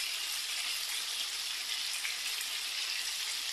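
Chicken drumsticks fry together in a pan for a chicken stew, giving a steady, close, bright sizzle that holds evenly throughout with no talking.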